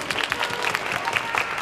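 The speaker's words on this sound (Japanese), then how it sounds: "拍手。 拍手。" An audience claps steadily and briskly throughout at a 2015 weekday live show at Sapporo Factory, a short burst of dense, even applause.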